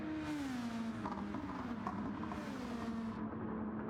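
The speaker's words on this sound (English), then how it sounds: "You can hear the saving going on in that number 95 car." Number 95 race car at Watkins Glen in a GTO Gr.2 race, engine droning at steady, lowered revs while saving fuel, continuous and close with a sustained whining tone and no speech.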